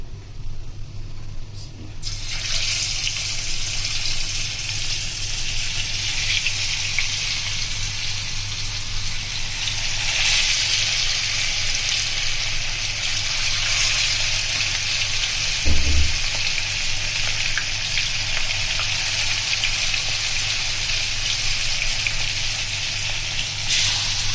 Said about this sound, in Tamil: மீன் பொறிக்கவா